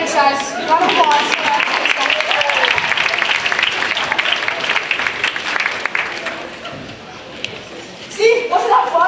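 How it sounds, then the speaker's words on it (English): A live audience at a campus TA talk breaks into a loud, dense round of applause lasting several seconds. Voices speak briefly at the start and again as the clapping tapers off. "Round of applause."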